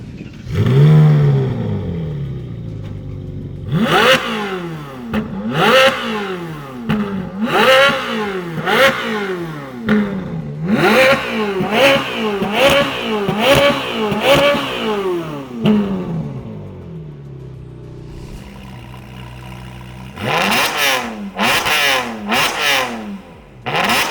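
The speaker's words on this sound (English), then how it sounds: "let me jump in and give you some revs" A Ferrari 458 Italia engine is revved repeatedly, sharp climbing and falling wails in quick bursts, loud and close, with brief pauses between.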